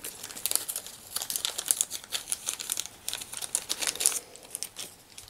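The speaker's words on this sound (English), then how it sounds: "Throw trash in the bag." Crinkling plastic and paper packaging from a Bakugan toy unboxing is stuffed into a trash bag, giving a steady run of close, dry crackles and rustles with no talking.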